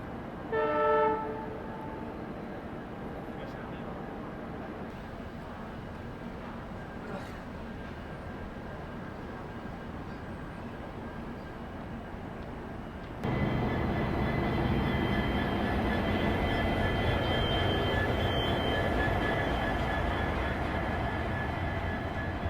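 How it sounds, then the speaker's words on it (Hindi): Sampark Kranti Express passenger train crossing the Thar desert in Rajasthan, a horn sounding near the start, then a steady rumbling clatter of wheels on rails that grows louder and nearer halfway through and continues without pause. "अब आप एंजॉय करिए थार रेगिस्तान के बीच चलती हमारी संपर्क क्रांति एक्सप्रेस को।"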